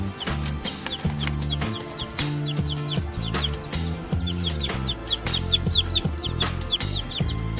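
Small chicks in a backyard chicken house cluck and peep in quick repeated bursts, close by, over a loud steady backing of music with no speech.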